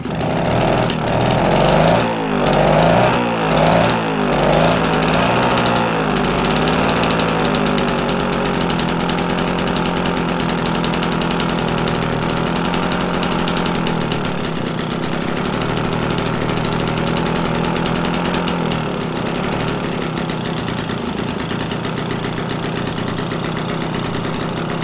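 An AV48 moped engine starting and then idling: sputtering, uneven bursts as it catches in the first seconds, settling into a loud, steady, buzzing two-stroke idle held close up for the rest of the time.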